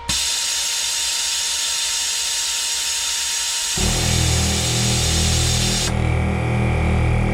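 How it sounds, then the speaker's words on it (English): A knock-off ARB on-board air compressor in a diesel Bronco kicks on, shifting from a steady hiss of air dumping into a loud, rhythmic motor drone that runs continuously up close. "open up that solenoid and just dump air and see how long it is before that compressor kicks back on"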